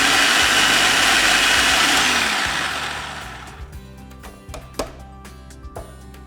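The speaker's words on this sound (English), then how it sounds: "Pop them in the blender." Red peppers ground in a blender: a loud, steady whirring roar for about three seconds, then the motor winds down into quieter rattles and knocks of the jar settling.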